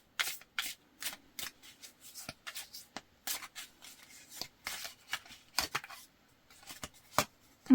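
Tarot cards are shuffled and pulled from the deck, making quiet, irregular rustles, flicks and soft snaps of card stock close up, with short pauses between bursts.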